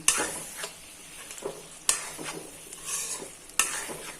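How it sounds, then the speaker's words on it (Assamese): Chicken pieces and onions frying in oil for curry, a close steady sizzle broken by sharp scraping stirs and clinks of a spoon against the pan roughly every couple of seconds. "তো মাংসখিনি হৈ গৈছে ফ্ৰাই, তেলটো ওলাই গৈছে, একদম পিঁয়াজৰ পৰা তেল, মাংসৰ পৰা তেল ওলাই গৈছে।"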